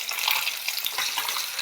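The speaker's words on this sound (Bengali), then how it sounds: "তো দেখুন এই যে মাছ ভাজা হচ্ছে" Pieces of rohu fish frying in oil in a pan: a close, continuous crackling sizzle with slight bubbly flutter, steady throughout the short moment.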